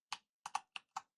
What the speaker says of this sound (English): I'm clicking Alt-E.